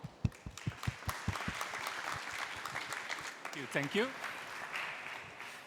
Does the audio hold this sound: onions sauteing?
no